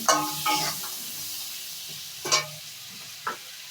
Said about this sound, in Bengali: হালকা ভাজা ভাজা হচ্ছে